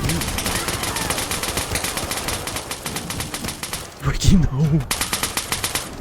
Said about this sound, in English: Why are you shooting at dead body?